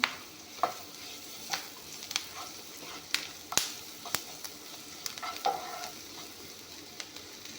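Pumpkin fries in a pan for an Assamese pumpkin recipe, a soft continuous sizzle broken by scattered sharp pops and crackles of varying loudness, with no speech.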